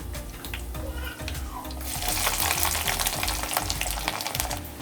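Loud crackling sizzle of chillies and ginger frying in hot oil for a Tamil mutton curry, with scraping stirs that grow busier and more intense partway through.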